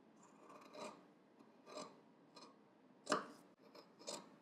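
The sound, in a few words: scissors trimming the seam allowance at a jacket lapel tip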